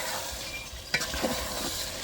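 Chicken and fried potatoes stirred together in a cooking pot for a Bengali handi chicken, a soft continuous scraping and faint sizzle with a couple of light clinks of the spoon, close and steady throughout.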